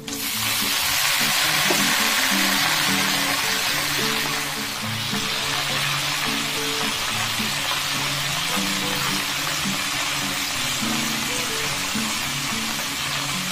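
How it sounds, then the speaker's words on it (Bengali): Red amaranth leaves go into a pan of onions that have already fried for about two minutes, giving a steady, close, continuous sizzle with a faint tonal hum underneath. "দু মিনিট মতো পেঁয়াজটা ভেজে নিয়েছি। এর মধ্যে দিয়ে দিলাম লাল শাকটা।"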